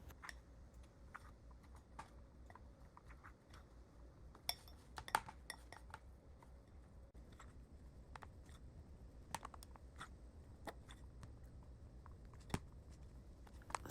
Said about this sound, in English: So I went in mixing this with a fork